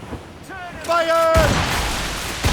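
Cannon fire from a sailing warship in the video game Assassin's Creed Rogue: deep booming blasts with rumbling broadband bursts around a shouted crew command, followed by continuing roar and another thud near the end.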